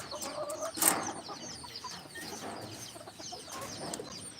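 A speckled hen clucks in a farmyard in soft, scattered calls, with a brief sharper squawk or flap near the start and other fowl faintly around, no talking.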